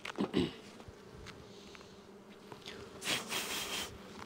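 Honeybee colony packed with brood across every frame, buzzing softly during a spring hive inspection, with a low steady hum and a few louder swells as bees fly close.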